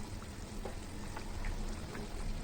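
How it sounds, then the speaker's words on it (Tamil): Fish dropped into a pot of simmering tamarind fish curry with mango, giving a steady, close sizzling and bubbling with no talking. "இப்போ மீனை போட்டுக்கலாம்."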